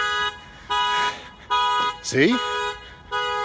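A car alarm sounds in a parking lot, its pulsing electronic tones repeating in steady bursts with short gaps, while a voice speaks briefly over the blaring signal.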